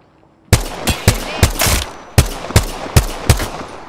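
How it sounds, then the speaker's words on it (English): Video game gunfire in close, loud bursts: about eight sharp shots in an uneven rhythm after a brief quiet start, each with a short echoing tail. "Being shot at."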